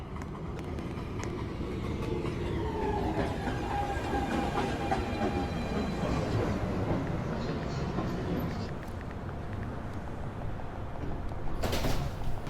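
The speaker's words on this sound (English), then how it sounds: "Uptown Local 1 train to Richter Street. Approaching the station." An NYC subway uptown local 1 train, an R262, pulls into a station with a steady, fairly quiet rumble and drawn-out squealing tones, ending in a brief sharp hiss.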